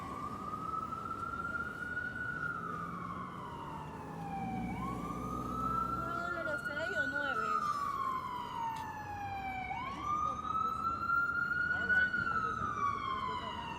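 Emergency vehicle sirens on a New York City street at night, a loud rising-and-falling wail cycling repeatedly over steady traffic rumble, with additional sirens layered in the background.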